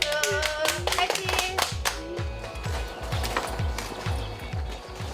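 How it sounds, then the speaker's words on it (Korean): Farm workers clap together at a morning staff meeting inside a greenhouse beside the fields, a small group's sharp, rhythmic claps ringing out close by, loud at first and then thinning. "박수."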